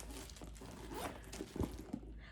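A purse's zipper closure is pulled open in a short, close, soft rasp, ending in a couple of small handling bumps in a quiet room.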